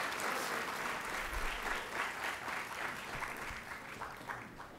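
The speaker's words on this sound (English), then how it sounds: "Let's give our students another round of applause." An audience at a university Founder's Day convocation applauds the students, giving steady, dense clapping that sounds fairly distant and soft, and it tapers slightly toward the end.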